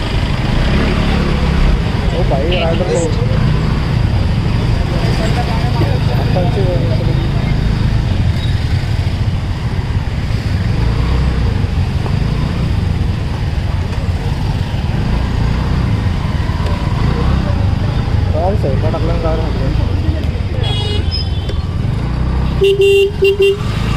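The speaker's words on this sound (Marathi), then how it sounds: "आता ट्रॅफिकमध्ये निघलेलो आहोत." Loud, steady road traffic near Pali, Maharashtra, with engines rumbling close by and several car horns honking toward the end; voices talk faintly beneath the noise.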